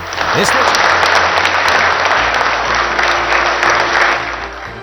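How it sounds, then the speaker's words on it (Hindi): ISRO scientists at the command centre applaud Prime Minister Modi on his arrival, loud, dense sustained clapping throughout with a low steady hum beneath. "प्रधानमंत्री जब कमांड सेंटर पहुंचे तो वैज्ञानिकों ने 5 मिनट तक ताली बजाकर उनका स्वागत किया"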